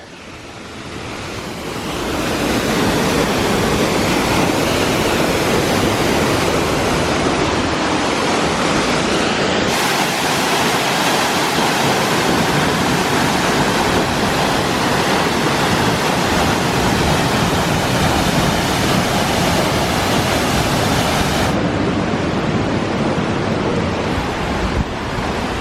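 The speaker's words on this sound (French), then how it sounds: "Je valide cette cascade" A waterfall cascade in Magelang, Indonesia roars as a steady, loud, broadband rush of falling water that fills the whole stretch without pause.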